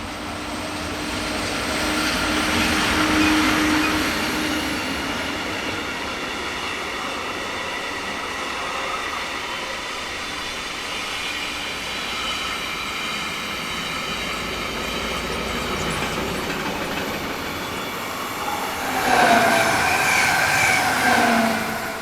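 A Swiss railway train heads east past a forest near Rupperswil and Aarau, a long steady rumble of rolling wagons and wheels on track, fairly loud throughout, with a brief brighter wheel squeal near the end.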